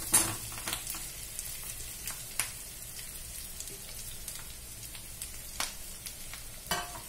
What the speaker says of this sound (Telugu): ఇది వేగుతుంది కదా, ఇందులో కరివేపాకు వేసుకోవాలి